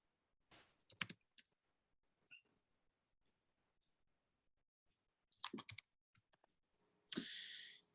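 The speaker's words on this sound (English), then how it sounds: "I hear you furiously typing away." Quick bursts of typing on a computer keyboard, with faint, close clicks arriving in a few short clusters separated by quiet gaps.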